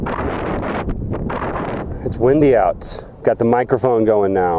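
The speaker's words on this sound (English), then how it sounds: "you can hear the wind" Rough, blustery wind buffets the microphone on a 750-foot sand dune at Great Sand Dunes National Park, loud at first, then a person talks close by as gusts continue underneath.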